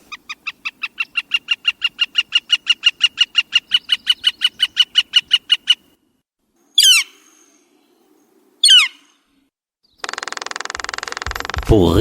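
A northern flicker gives a long, rapid, evenly paced series of over twenty bright call notes, followed by two separate short squeaky calls. A burst of speech-like sound comes at the end.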